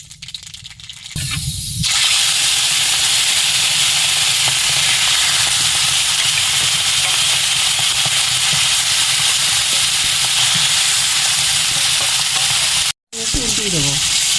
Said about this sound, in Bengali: ফোড়নে একটু কালো জিরে দেবো